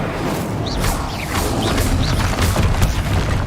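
A Confringo blasting spell in the Hogwarts Legacy video game explodes in a loud, sustained burst of booming, crackling combat noise with swishing magical effects, and no voices over it.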